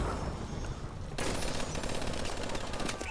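Rapid automatic gunfire in the online team deathmatch shooter Call of Duty: Advanced Warfare, a dense continuous burst of shots, loud and close, growing heavier partway through, without talking.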